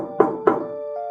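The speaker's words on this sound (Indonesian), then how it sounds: "siluet itu mengetuk kaca" Two sharp knocks on window glass, evenly spaced about a quarter second apart, close and distinct over a faint steady hum, with no voices.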